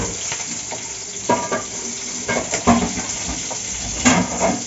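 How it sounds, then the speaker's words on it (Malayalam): Ginger and green chilies sauté in hot oil in a pan, giving a steady close sizzle broken by a few spatula strokes. "ഇഞ്ചി പച്ചമുളക് ഇട്ടൊന്ന് ഫസ്റ്റ് ഒന്ന് ചെറുതായിട്ടൊന്ന് വഴറ്റാം"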